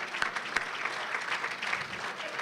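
Audience applause at the 97th Gateway Chamber annual awards dinner, a steady, fairly loud spread of hand clapping from a large room with a few sharper nearby claps standing out.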